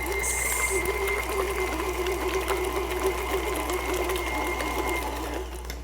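An electric mixer whirs steadily through a cream cheese cheesecake batter with eggs and vanilla for a pumpkin pie cheesecake, a close, continuous motor hum with a faint rattle and no talk.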